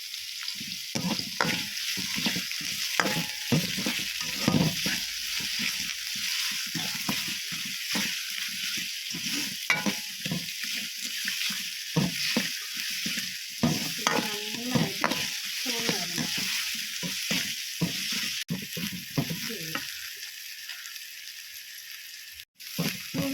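Sliced onions and salt frying in a pan for a liver fry, with a steady sizzle broken by repeated scraping stirs of a spoon, close and alone.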